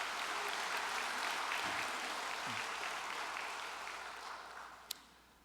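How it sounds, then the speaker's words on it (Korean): A congregation gives a sustained round of thankful applause at a Korean church service, a steady wash of many hands clapping that slowly tapers off, with one sharp click near the end. "수고하신 우리 참 어머님께 감사의 박수를 보내 올리십시다"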